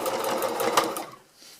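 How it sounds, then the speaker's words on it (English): A sewing machine stitching the hem of a tarp: a close, rapid rhythmic mechanical whir of needle strokes lasting about a second, then stopping. "start with your lock stitch"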